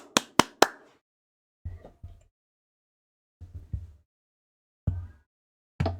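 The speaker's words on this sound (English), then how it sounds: "Golf clap." A few sharp, isolated golf claps, then a handful of slower, softer hand sounds spaced seconds apart, sparse and unenthusiastic, with silence in between.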